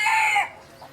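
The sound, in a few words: rooster crowing and clucking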